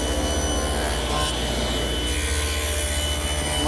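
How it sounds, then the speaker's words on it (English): A table saw making an angled shoulder cut in wood using a miter gauge set to 30 degrees, a loud continuous whining buzz with rough cutting noise and no speech. "To make the shoulder cut on the opposite face, I have to turn the miter gauge so that it's 30 degrees on the other side of 0."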